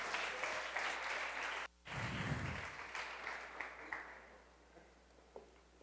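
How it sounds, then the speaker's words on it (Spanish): A church congregation applauds in honour of the women during a Mother's Day service: dense, sustained clapping that fills the room, briefly cuts out, then slowly thins and fades toward the end. "Un aplauso a todas las mujeres."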